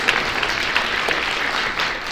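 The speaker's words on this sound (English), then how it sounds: "Can you give a big round of applause to Santosh ji for everything that she does every single day in every way?" A room full of people applauds Santosh ji at a fundraising event, dense continuous clapping that holds steady and fills the space, fairly loud with no voices standing out.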